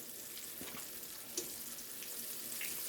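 Swiss steak meat laid into a hot pan, giving a soft, even sizzle at low volume with a faint splash-like hiss and one small tap.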